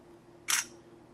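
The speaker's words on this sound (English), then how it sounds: "if I press down the shutter button halfway, it'll get a focus and then I can take the photo" A General Mobile DSTL1 phone camera fires a single short synthetic shutter click, near and crisp, after a quiet stretch with a faint steady hum.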